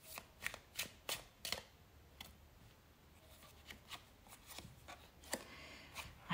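Tarot cards shuffled by hand for a reading, giving a run of crisp, close riffling bursts, several quick ones at first, then spaced and softer ones, with no talking.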